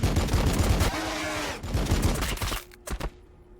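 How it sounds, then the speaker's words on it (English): Units in Warhammer 40K: Battlesector open fire in dense rapid volleys, loud and close at first, then thinning to a few scattered distant shots. "Opening fire."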